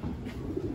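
A pigeon gives a brief, soft, low coo inside a loft, heard close and alone for under a second.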